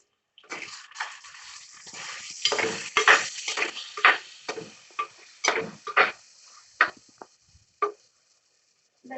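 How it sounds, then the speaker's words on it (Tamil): Prawns stirred in a pan with a spoon, a series of close, distinct scraping and clinking strokes at an uneven rhythm, separated by short quiet gaps, no talk. "ராலை சேர்த்துட்டு அதை நல்லா வந்து இப்ப கிளறி விடலாம்"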